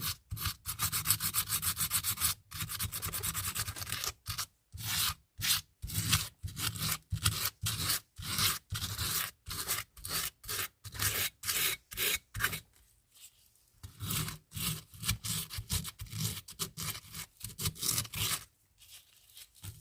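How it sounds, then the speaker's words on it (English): Sandpaper rubbed in quick back-and-forth strokes over a cured ceramic resin piece, a close rhythmic rasping that stops and starts in bursts with brief pauses. "the sandpaper here"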